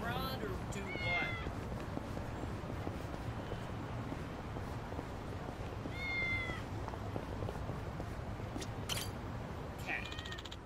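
A cat in the video game Yakuza: Like a Dragon meows a few times, brief and moderately clear over a steady background hum of game ambience.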